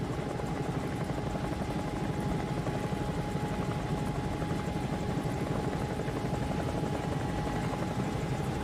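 A Bell 222 helicopter in a flight simulator game comes in to land on a runway, its rotor and turbine making a steady, loud, close drone with a rapid blade chop and a constant whine, no voices.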